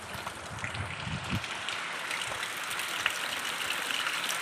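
Monsoon downpour in Konkan pours steadily as a soft, even wash of rain with scattered splashes and a brief low thud early on, quiet and continuous.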